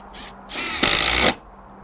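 A Milwaukee M12 3453-20 impact driver in mode 3 drives a 2-inch general purpose screw: a short spin-up, then a loud hammering burst of impacts lasting about half a second before it stops abruptly.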